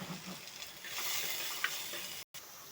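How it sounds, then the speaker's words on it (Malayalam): Onions and slit green chillies sauté in a pan with a steady close sizzle and faint stirring scrapes, and a brief cut near the end. "ഒരു 3 മുളക് നടു കീറിയത് ഒന്ന് ചെറുതായിട്ടൊന്ന് വഴറ്റിയെടുക്കുക"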